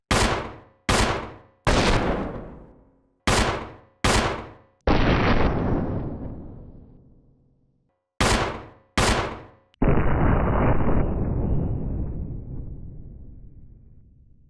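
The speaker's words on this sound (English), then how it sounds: "it has the same firing sound and animation as a regular handgun" Handgun shots in Resident Evil REmake: nine sharp, loud reports in uneven bursts, two of them trailing into long, ringing decays, with no voices between them.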